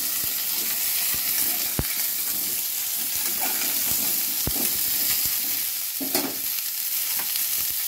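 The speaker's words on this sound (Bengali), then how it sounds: "একসাথে জোরে করে ভাজতে হবে।" Ingredients for a Lakshmi Puja bhog fry together over high heat with a loud, steady sizzle close by. Irregular scraping and stirring knocks sound against the pan, and no voices are heard.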